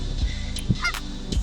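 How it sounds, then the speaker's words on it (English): Ducks by the Bow River, a few short honking quacks and low calls in a brief burst, close by over outdoor background noise. "so many ducky ducks are sitting over here. Ducks are enjoying."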